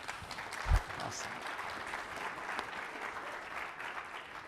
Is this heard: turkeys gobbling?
no